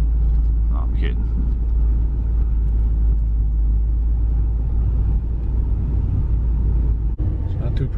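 Car driving along a road through a dark, creepy forest, a steady close interior engine and tyre rumble running the whole time with people talking over it.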